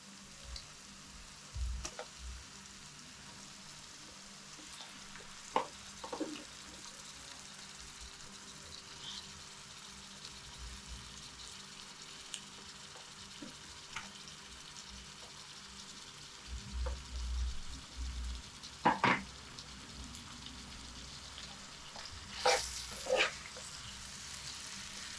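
Fish pieces frying in masala in a pan: a quiet, steady low sizzle broken by occasional clinks and scrapes of stirring, a few louder knocks toward the end, no voices.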